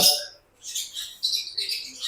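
Parrots and their chicks at a parrot farm give high, bright chirps and squawks in several bursts, close and fairly loud, with a short quiet gap between calls.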